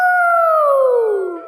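Two cartoon characters howl like wolves at the full moon, one sustained, loud, gliding howl with a second voice harmonizing, slowly falling in pitch before trailing off; voices imitate the wolf howl.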